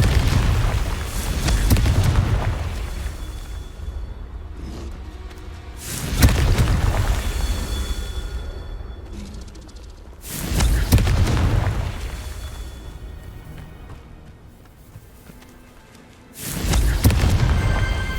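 Confringo explosive spell blasts in the Hogwarts Legacy video game, four deep booming explosions spaced a few seconds apart, each with a loud rumbling tail that fades slowly.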